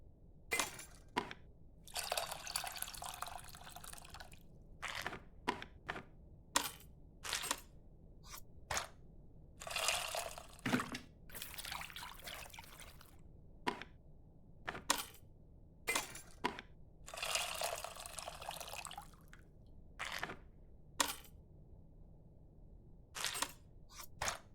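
Tamarind squished by hand in a bowl of water in the cooking game Venba, heard as a string of short wet squelches and splashes in irregular bursts with quiet gaps between, no talking.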